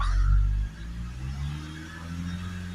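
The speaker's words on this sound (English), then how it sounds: "So we will accelerate it up." A Mitsubishi Outlander 2.3 diesel engine runs during a DPF system check as a low, steady harmonic drone. It is loudest at the start, then settles into a sustained hum with little sign of a sharp rise.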